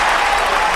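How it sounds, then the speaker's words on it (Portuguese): A brief burst of audience applause from a community gathering, a dense and even wash of clapping. "Os aplausos!"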